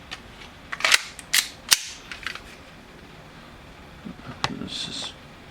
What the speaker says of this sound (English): Let's dry fire. Okay, we got some gas in here.